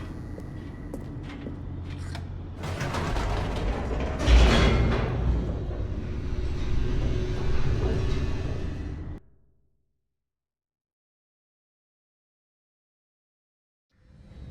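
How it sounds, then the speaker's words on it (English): An elevator plummets downward in The Stanley Parable Ultra Deluxe video game, heard as a steady rumbling mechanical roar with a louder swell midway, then an abrupt cut to total silence before a faint return at the end. "The elevator raced downward, plummeting towards an unknown fate."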